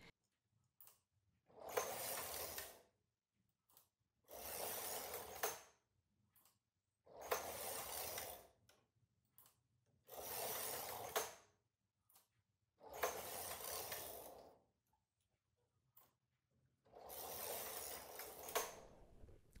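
A knitting machine carriage is pushed back and forth across the needle bed in six evenly spaced swishing, rattling passes, each about two seconds long, close and clear with quiet gaps between them.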